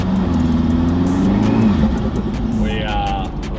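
A bus engine, just back from a converter repair, drones loud and steady on a test drive with a low rumbling tone, while a voice talks over it throughout.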